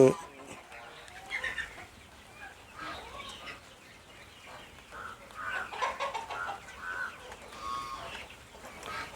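Chickens cluck softly and intermittently nearby while being vaccinated against Ranikhet disease, scattered calls over a quiet background with faint handling noises.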